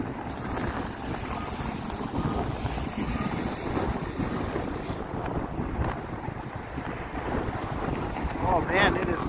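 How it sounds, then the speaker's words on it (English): Strong wind gusting along a snowy Toronto street on a freezing evening, a loud, continuous roaring buffet that batters the microphone throughout, with no talking. "nasty wind right here"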